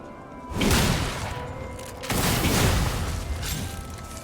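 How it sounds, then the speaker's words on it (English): A heavy gunshot blast in the game Lies of P, fired backwards to recoil toward an enemy: two loud booming bursts, each trailing into a rumbling wash of noise. "You shoot backwards to recoil yourself towards the enemy"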